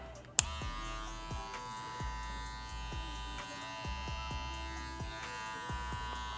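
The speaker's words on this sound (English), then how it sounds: "I'm gonna start blending using my lever without guards." Hair clipper with a lever, run without any guard while blending a crop top fade, hums steadily up close, with faint repeated strokes through the hair and no talk.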